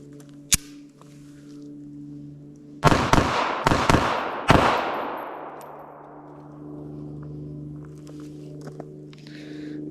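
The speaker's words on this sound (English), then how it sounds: "let's go ahead and load up these last 5 rounds and pump them through her" A Bodyguard 2.0 .380 pocket pistol fires five sharp, loud rounds in quick succession, each crack echoing and ringing out with a long decay, over a steady low hum.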